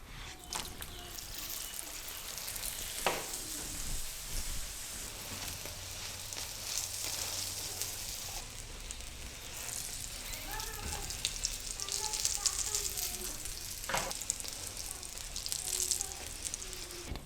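A paratha fries in oil in a pan on the stove, a steady close sizzle and crackle with occasional sharper pops and faint clatter, heard alone without talking.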